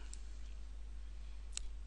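Two quick mouse clicks on a computer while working with an Adobe InDesign tool, a faint pair of sharp ticks over steady low electrical hum with no talking.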